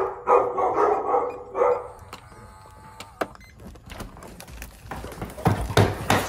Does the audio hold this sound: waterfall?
no